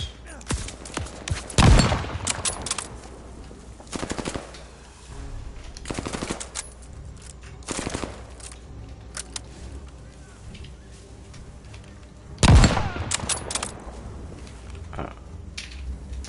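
Machine gun fire in the video game Call of Duty: Vanguard comes as short, separated bursts with a few heavier booming hits, close and loud, while someone talks intermittently.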